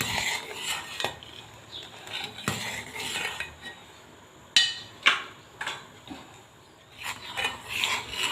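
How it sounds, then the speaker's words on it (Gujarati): A spoon stirs sabudana and almond kheer in a thick-bottomed pot, giving scattered sharp metallic clinks and scrapes against the pot between quieter stretches of stirring, with no voices. "તો બી હું ચમચાથી મિક્સ કરું જ છું, કેમ કે નીચે ચોટે ના"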